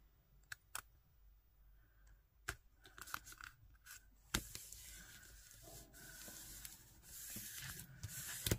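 Scissors trim excess paper in a quiet crafting session, giving a series of sharp snips and clicks with soft paper rustling, louder rubbing and cutting toward the end.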